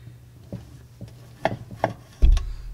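A Rokka Korpisoturi knife with a rhombic cross-section slicing summer sausage and a block of cheese, with several soft, close cutting thuds against a board spaced about half a second apart, ending in a heavier thump.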